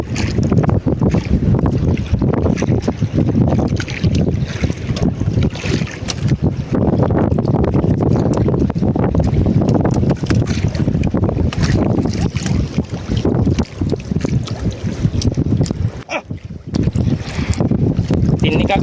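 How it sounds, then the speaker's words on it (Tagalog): Strong northeast amihan wind buffets a boat at sea near islands, roaring continuously into the microphone with steady low rumble and gusting noise across the whole stretch, with a brief lull near the end. "Basta lakas ang amihan mga ka-sisters."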